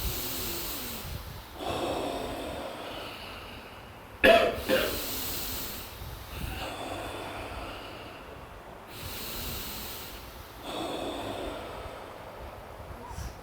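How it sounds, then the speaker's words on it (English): Slow, deliberate breaths drawn in and out through both nostrils during a nine-round breathing exercise at a meditation retreat, several long airy inhales and exhales in a regular rhythm, with a brief sharper snort near the middle. "this is known as the 9-round breathing exercise"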